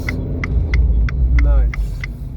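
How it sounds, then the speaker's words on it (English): Turn indicator of an Abarth 595C Turismo convertible ticks in an even, steady rhythm of about six sharp clicks over low engine and road rumble while driving, with a brief voice passing under it. "even the turn indicator sounds"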